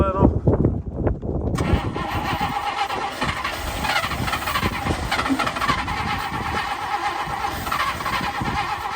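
An old International Harvester Loadstar truck, parked for 30 years, cranks over with a ragged starter grind and then catches into a loud, steady running engine that stays close and continuous, while a person talks.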